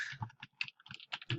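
Quiet, fast typing on a computer keyboard during an Undertale game, with irregular clusters of key clicks tapping away at close range and no one speaking.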